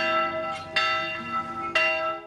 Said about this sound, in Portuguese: até o badalar do sino